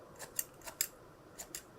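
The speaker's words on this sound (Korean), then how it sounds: "제가 숱가위도 있는데 숱을 좀 칠게요." Thinning scissors snipping through hair at close range, a handful of short crisp metallic cuts in an uneven rhythm, with quiet pauses between them and no talk.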